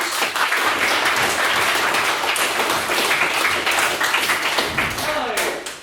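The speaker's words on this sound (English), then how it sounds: "can we please get another round of applause for his main speech?" Audience applause at a university debate, sustained dense clapping lasting several seconds, loud and close with a brief voice over it.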